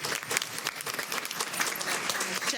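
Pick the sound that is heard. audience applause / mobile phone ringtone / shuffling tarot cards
audience applause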